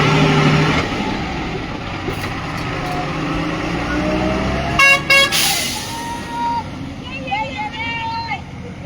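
A large vehicle rumbles past on the road while its horn sounds in several sharp, loud blasts midway, with fainter horn toots following amid steady traffic noise; people talk throughout.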